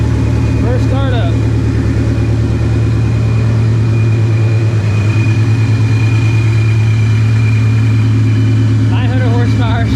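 A supercharged 900-horsepower Shelby GT350 engine runs at first startup: a loud, steady, close mechanical drone with a deep low hum throughout, and a voice briefly heard at the start and the end.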